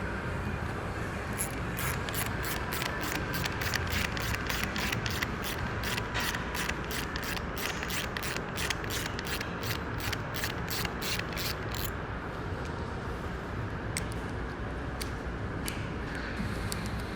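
A ratchet spins a nut onto a 2027 Fantic XE300 motorcycle's brake lever, an ASV C6 lever, with fast steady clicking for about twelve seconds, then a few slower scattered clicks, close and clear.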